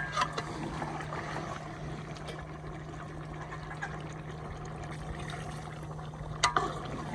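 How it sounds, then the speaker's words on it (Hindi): Water pouring into frying mutton for a korma gravy, a steady broad splashing and sizzling wash that runs the whole way, fairly close, with a brief louder splash near the end. "मैं ये वाले 2 मग्गे पानी शामिल करने लगा हूँ।"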